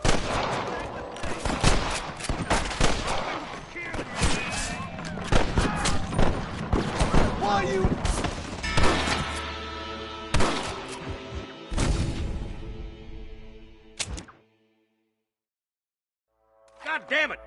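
Gunfire in the Western video game Red Dead Redemption, with dense rapid shots, bursts and booms at close range over shouted voices, then a sudden stop, a stretch of silence and a brief return.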